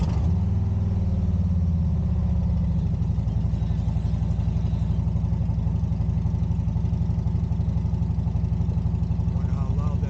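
A motorcycle exhaust rumbles loud and close as picked up by a 360 camera's built-in mics, a heavy steady throb that settles into an even idle-like drone with slight rises in pitch.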